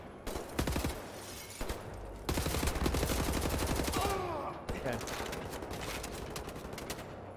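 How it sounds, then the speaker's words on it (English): Sustained automatic gunfire in the shooter Wolfenstein: The New Order, rapid dense bursts of shots with brief pauses, loud and close amid battle noise, with a voice briefly heard through the firing. "seems like some sort of heavy firepower coming this way"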